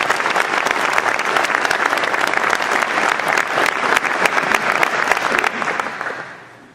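Audience applause at a New Year's greetings event honouring long-serving team members: a dense, loud crowd clapping that holds steady for several seconds before fading out at the end.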